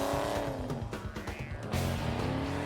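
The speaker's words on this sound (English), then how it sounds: "Driving the Superbird hard is an experience because this is a big machine." A Plymouth Superbird with a 440 engine is driven hard, its loud V8 roaring and revving while tyres squeal through a drift, the engine note rising again near the end.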